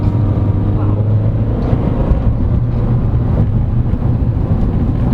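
A 2022 Honda CR-V SX diesel AWD accelerates to overtake, heard from inside the cabin as a loud, steady low engine and road drone with a voice speaking over it.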